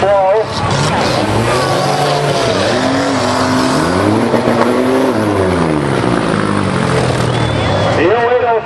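Demolition derby cars at a county fair roar with steady, loud revving engines and wavering pitch, impacts buried in the engine noise, while an announcer calls the action over it.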